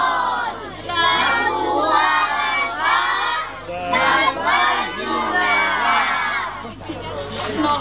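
A crowd of children shouts loudly together during a storytelling and magic show, a sustained chorus of yelling in several bursts with brief dips between them.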